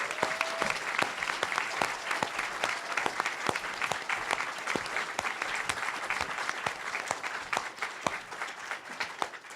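Sustained audience applause fills a conference hall at an AI ethics event, honoring the organizer; steady dense clapping throughout with no voices over it.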